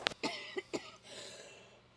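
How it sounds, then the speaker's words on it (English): A man coughs at home in a cabin, several harsh separate bursts over about a second, close and fairly quiet, with a faint hiss trailing after. "I gotta get rid of this cough"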